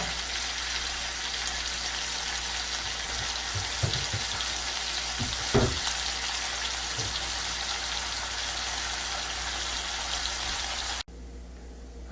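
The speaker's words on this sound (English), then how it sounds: "And we'll let that sizzle" Bacon frying in a pan gives a steady, even sizzle that holds for about eleven seconds with a few faint clicks of stirring, then drops abruptly to a quieter hiss.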